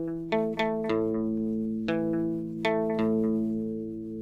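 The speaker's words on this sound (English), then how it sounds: "this palm muted sound" A palm-muted electric guitar riff, with clipped, chugging low notes and a few ringing plucked accents, played alone with a chorus-like shimmer.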